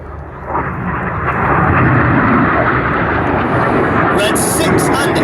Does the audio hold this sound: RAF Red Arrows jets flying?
yes